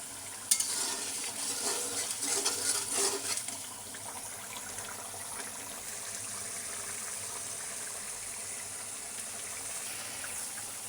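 Fish spice paste fries in a pan, with a steady close sizzle throughout and a burst of louder stirring and scraping in the first few seconds before it settles into even frying.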